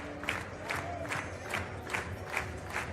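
A Slovakian crowd at an athletics high jump meeting in Košice claps in a steady rhythmic beat, with cheering swelling around each clap as the jumper rouses them.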